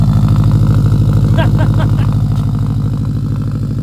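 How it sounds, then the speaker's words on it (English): A car engine with an aftermarket SPT exhaust rumbles steadily with a deep, throaty exhaust note, loud and close throughout, with a brief rise in pitch partway through. "I really love the way this car sounds with the new exhaust"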